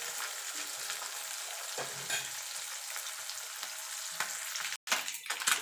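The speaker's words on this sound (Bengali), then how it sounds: "মাছগুলো ভাজা হয়ে গেছে।" Small mourala fish fry in hot oil, a close, continuous crackling sizzle with stirring scrapes and a brief cut near the end.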